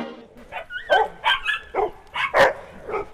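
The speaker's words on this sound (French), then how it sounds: "Il y a 50 chiens." Several dogs on a group walk with a professional dog walker bark and yip in quick, uneven bursts, loud and close, some cries higher and whining.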